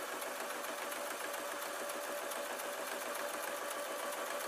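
A sewing machine stitches fleece in a steady, unbroken mechanical whir with a fast regular ticking pulse, held close and even in level throughout, with no voices.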